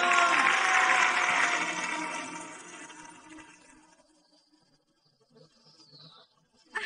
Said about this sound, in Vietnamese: Xin quý vị cho một tràng pháo tay thiệt là lớn